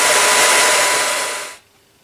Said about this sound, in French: Alors avec un sèche-cheveux, on risque pas de faire de dégâts.